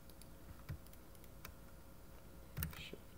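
Soft computer keyboard and mouse clicks while working in Blender 3D on Linux, a few isolated taps spread across a quiet room with faint background hum.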